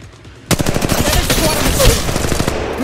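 Loud automatic gunfire in the Apex Legends Mobile battle royale erupts suddenly after a brief quiet start. It continues as a close, dense rattle of rapid shots almost to the end.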